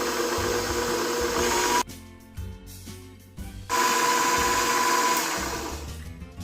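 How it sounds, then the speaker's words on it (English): An electric mixer whips butter and sugar for a gingerbread cake with a loud, steady motor whine that cuts out briefly, leaving faint clatter, then roars back and gradually eases. "we are going to continue whipping this until it's light and fluffy"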